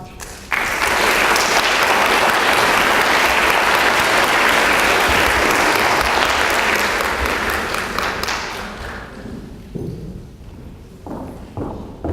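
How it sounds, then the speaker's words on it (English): Sustained applause from a large crowd at an academic convocation, loud and dense clapping that holds steady for several seconds before thinning out into scattered claps. "let's give a round of applause to all the award winners from social work"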